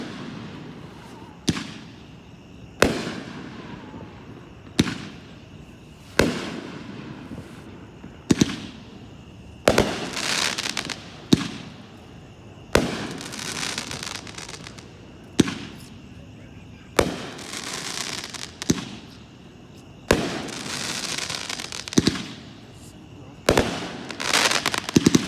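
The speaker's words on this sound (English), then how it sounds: "number 5 is Doomsday, 13 shots, pack 12-1," A Doomsday 13-shot, 200-gram firework cake at a public show in Andover, Kansas, firing a steady series of loud booming launches and bursts every second or two, with crackle and echo between shots.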